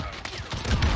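Sharp gunshots ring out in a video game firefight as a sniper fires from a distance, several crisp cracks in quick succession followed by a low rumbling thud.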